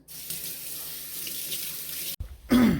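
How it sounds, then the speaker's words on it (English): Tap water runs steadily into a sink as hands are washed, loud and close for about two seconds, then cuts off briefly before a final burst of splashing flow. "Let me wash my hands."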